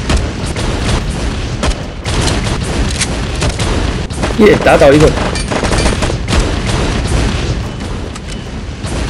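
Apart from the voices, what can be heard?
cannon fire bombarding enemies in video game LifeAfter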